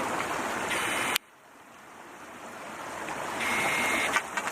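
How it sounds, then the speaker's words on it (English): Crystal-clear mountain stream water rushing out along a hiking trail in Ice House Canyon, a broad steady roar, loud up close at first, then cut to a quieter, more distant flow that gradually swells again. "there's quite a bit of water coming out of there"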